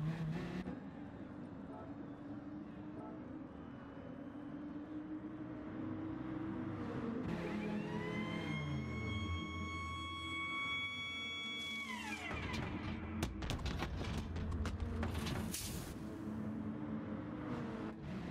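Pit stop in Gran Turismo Sport during a Gr.3 race: a revving race car engine drops into a steady idle, then a burst of rapid mechanical clatter and whirring from the crew changing tires, with a voice talking over parts of it.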